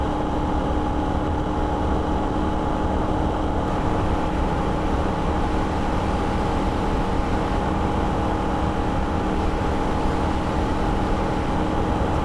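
Loud, unbroken engine roar from a Holden VF Ute held at wide open throttle on the Nürburgring, a steady drone that continues evenly throughout with no voices over it.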